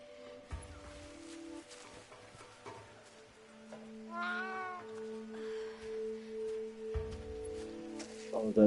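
A cat meows a few times in a rising, wavering call midway through, set against a steady electronic hum and tones from a live game stream.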